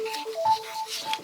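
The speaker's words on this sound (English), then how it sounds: "That's my phone." A mobile phone rings with a steady electronic melody of short repeated tones, heard fairly clearly during a subcommittee meeting with a faint room murmur around it.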